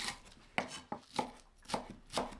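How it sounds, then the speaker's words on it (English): A knife chops a spring onion on a cutting board in quick, irregular taps, about six sharp knocks in under three seconds, close but quiet with no voices. "Cut 1 spring onion."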